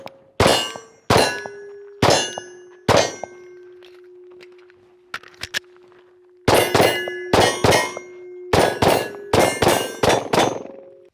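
Glock 48 MOS pistol fired at steel targets, about a dozen sharp close shots in two strings, the first slow and spaced, the second quicker. Each shot is followed by a sustained metallic ring that hangs between them.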